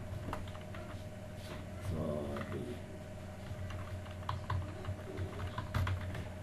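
Rapid, irregular clicks of a computer keyboard, close and fairly quiet, with short bursts and pauses and no one talking.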